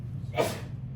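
A single short sneeze bursts out partway through, faint and somewhat muffled against a quiet room background.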